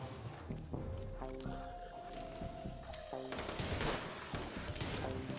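Gunfire from colonists in RimWorld, a scattered series of game shots mixed with busy battle sounds, fairly faint and continuous across the moment.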